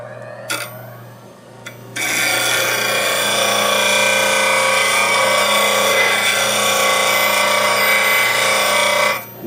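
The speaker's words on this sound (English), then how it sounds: "then you can go ahead and grind your actual scraper or whatever you're grinding" A bench grinder wheel grinds a negative rake wood turning scraper, sustained loud rasping whine with steady hum after brief taps, running continuously for about seven seconds before stopping, with no talking.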